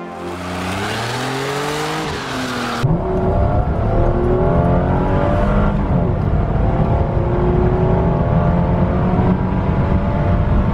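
A 2001 Mercedes SLK 32 AMG with a 3-litre V6 rises through the revs under hard acceleration, then shifts into a loud, close, sustained drone as the engine pulls steadily on, with no talking.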